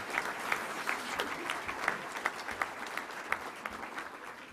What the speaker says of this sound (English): So let's give a round of applause for all of our sponsors.